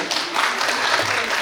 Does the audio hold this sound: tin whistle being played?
no